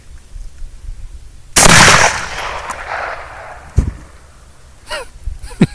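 A single loud gunshot cracks close by, followed by a decaying echo, then a sharper smaller bang and a few faint rustles and clicks in a quiet outdoor setting.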